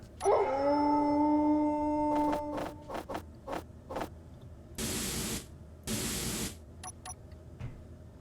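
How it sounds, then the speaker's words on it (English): A wolf in the video game Space Engineers lets out a long, clear, sustained howl, followed by a series of sharp clicks and two loud hissing bursts of spray-like noise. "The wolf howls get kind of annoying after a while."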